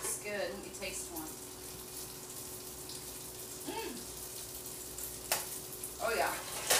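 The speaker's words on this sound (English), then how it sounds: "just toss the noodles in the brown butter and garlic mixture" Noodles tossed in a pan of sizzling brown butter and garlic over low heat, a soft continuous frying hiss with occasional scraping and stirring clatter, and brief voices nearby.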